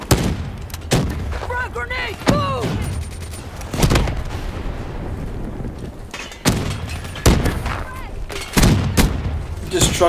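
Grenade blasts in Call of Duty: Black Ops III team deathmatch on Xbox One, several loud booming bursts at irregular intervals mixed with gunfire and game effects, with a voice talking faintly in between.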